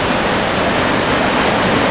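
The swollen Cinca river rushes past in a loud, unbroken roar of fast-moving water, close and constant with no voices.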